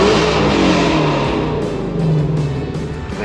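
A 2020 Shelby GT350 with full bolt-ons revs hard and loud inside an overpass, its engine roaring continuously at high RPM with the sound echoing close by.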